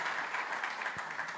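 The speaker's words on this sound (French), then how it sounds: "j'aimerais inviter l'assistance à applaudir le professeur Samuel Pierre." An audience at a conference panel gives a brief, fairly quiet round of applause, heard from a distance as a soft, even patter.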